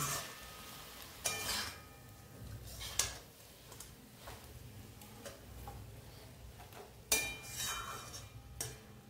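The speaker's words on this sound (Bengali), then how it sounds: "এবার আর একটু ভালো করে নেড়ে চেড়ে মিশিয়ে নিয়ে তারপরে আমি প্লেটে তুলে দেবো।" Red leafy greens (lal shak) cooked with fried mourol fish being stirred in a pan after the gas is switched off: repeated utensil scrapes and taps over a faint lingering sizzle, close and fairly quiet, no speech.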